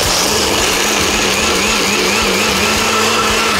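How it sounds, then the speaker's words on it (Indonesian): An electric blender runs at full speed, whirring loudly and steadily up close as it purées peanut sauce ingredients with salt and water. "Saatnya kita blender ya."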